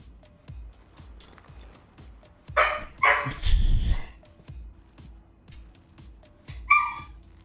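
A dog barks in a couple of short, loud bursts partway through and again near the end, over a quiet background of regular ticking game sounds, with no one talking.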